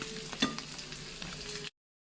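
Crumbed thin snook fillets fry in a full pan on high heat, a dense, close crackling sizzle with a brief louder pop early on, cutting off abruptly to silence.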